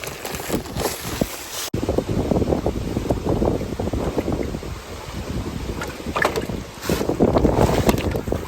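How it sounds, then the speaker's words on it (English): Strong wind gusts buffet and roar across open water near a fish-stocking spot, rushing loudly and unevenly close to the microphone with no talking. "That wind is whipping."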